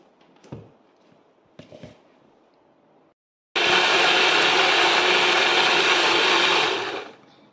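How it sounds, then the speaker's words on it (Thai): An electric blender whirs loudly and steadily for about four seconds while blending papaya, after a couple of brief knocks, a short pause and a sudden start, then winds down. "เดี๋ยวเราจะปั่นนะคะมะละกอ"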